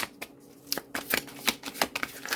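A deck of tarot cards is shuffled close up, with repeated crisp riffling and slapping bursts at an irregular pace and no talk.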